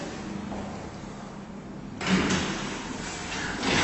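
Doors of the right-hand lift in the Capital on the Quay building slide open with a soft rumble and rush of noise, fairly close, no voices.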